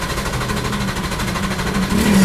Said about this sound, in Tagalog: So consistent naman po yung tunog ng makina.